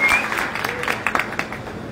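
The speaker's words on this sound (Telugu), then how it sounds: "మీరే ఒకసారి చప్పట్లు కొట్టుకోండి తమ్ముళ్ళు" Brief burst of crowd clapping at a TDP–Janasena political meeting, scattered claps with a few sharper hand strikes, moderately loud and fading, with no speech over it.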